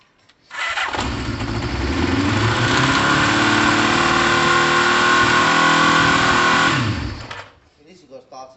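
A Kawasaki ZL600 motorcycle engine starts and revs high and steady for about six seconds, loud and close, then cuts back down toward idle, with a voice talking faintly near the end.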